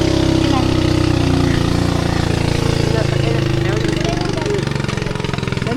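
A small motorboat engine chugs steadily and loudly close by in floodwater after heavy rain in the Philippines, its rapid pulsing putter continuing throughout.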